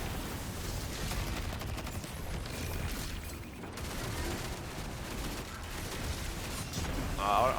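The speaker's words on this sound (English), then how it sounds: "Spreading grenades." Spreading grenades going off in the video game Destiny 2: a dense, continuous clatter of rapid bursts and mechanical rattling amid busy game noise, held at a fairly even loudness.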